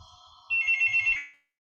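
A telephone rings during a class, a steady electronic ringtone of rapid pulsing tones lasting under a second before cutting off into silence, heard alone without talk.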